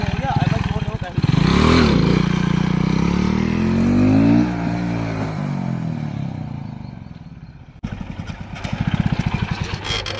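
A Splendor motorcycle in first gear revs hard and accelerates for a wheelie, engine note rising loud and close for several seconds, then dropping back before a second rev near the end.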